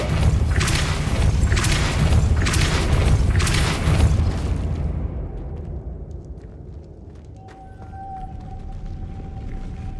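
Repeated booming bursts from the Depulso force spell being cast in the video game Hogwarts Legacy, several loud heavy blasts in quick succession, then fading to a quieter ambient hum with a faint tone.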